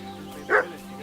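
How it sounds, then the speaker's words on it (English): A single short dog bark from the medieval role-playing game Kingdom Come: Deliverance 2, a brief, fairly close bow-wow rising out of a quiet ambient background. "What's that dog making such a fuss about?"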